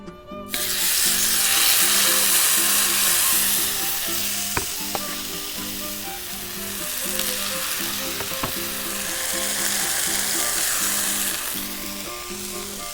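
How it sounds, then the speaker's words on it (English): Enchiladas fry in oil in a pan set on an outdoor grill over a fire, giving a steady, loud sizzle and crackle throughout with occasional sharp pops and no talking. "Let's put some oil in our pan. Let's put our enchiladas that we made."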